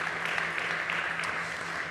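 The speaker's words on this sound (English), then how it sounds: "This big applause for you and wonderful pitch." Audience applause after a startup pitch at a business summit competition, a steady even wash of clapping that holds at moderate level for the whole stretch with no voices over it.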